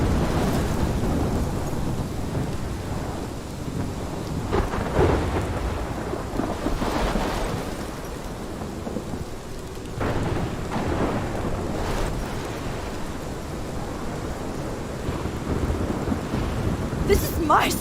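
Thunderstorm with steady rain in the video game Life is Strange, heavy rainfall hissing throughout with several rolling thunder rumbles building and fading, loud and enveloping with no talk.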